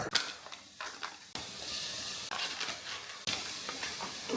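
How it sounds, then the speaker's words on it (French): Smoked bacon lardons, cut into matchsticks, frying over medium heat in a saucepan while being stirred: bright, steady sizzling in several close takes, broken by a few abrupt cuts, with no talking. "Faites chauffer une casserole sur feu moyen, ajoutez les lardons. Faites-les revenir 5 minutes en mélangeant"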